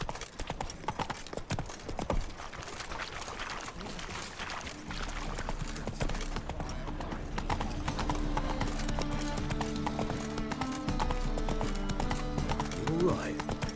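Roach, a horse in The Witcher 3, trotting with rhythmic clip-clop hoofbeats, partly under a game music bed and voices.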